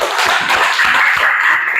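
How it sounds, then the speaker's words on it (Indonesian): A classroom of students applauding at the end of a lesson, a brief burst of many hands clapping together, loud and close, with no talk over it. "tepuk tangan buat kita semua"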